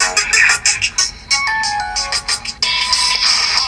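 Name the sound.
Cubot H1 phone ringtone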